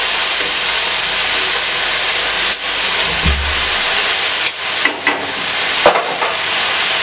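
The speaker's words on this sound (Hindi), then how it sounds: "इसे हम हल्का सा भूनेंगे।" Onion lightly frying in a pan for a Chinese-style macaroni dish, giving a loud, steady hiss of sizzling with a few brief clinks and scrapes of stirring, close up and without talk.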